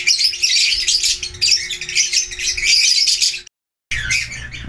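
Pet birds in breeding cages chirp and squawk in a busy, overlapping chorus close by, with a steady hum underneath, a brief silent break, then the chattering resumes.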